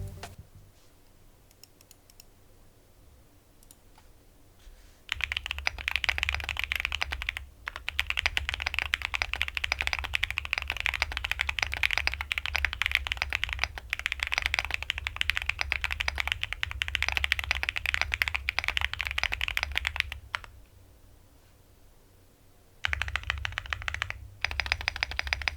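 Rapid clacky typing on a stock High65 v2 mechanical keyboard, close and dense in two long bursts with a quiet gap between, starting after a few seconds of near silence.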